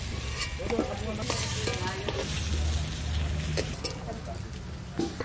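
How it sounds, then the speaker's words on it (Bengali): Potatoes frying in oil in a village-style kitchen give a close, steady sizzle with stirring scrapes, and a voice speaks briefly over the cooking. "আলুটা একটু ভাজা ভাজা করে নিলাম,"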